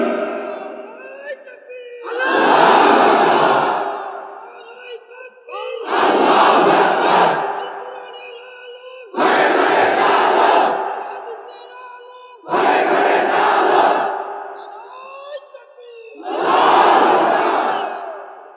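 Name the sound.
crowd loudly shouting takbir (Allahu Akbar)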